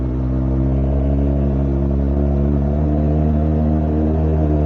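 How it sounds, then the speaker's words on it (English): A modded Kawasaki ZX4R motorcycle engine running at a steady, loud, close idle, a continuous even drone without revving. "you guys want to hear the engine. This is what you get."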